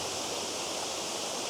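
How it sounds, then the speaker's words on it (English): Tianna Falls waterfall and the small river rapids leading into it give a constant, full rushing roar, loud and unbroken, with no talking. "There's these wee rapids leading up to the waterfall as well"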